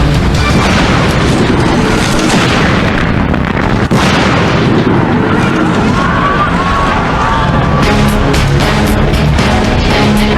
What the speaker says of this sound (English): Crews attempt to approach the inferno, but are kept back by one earth-shaking eruption after another.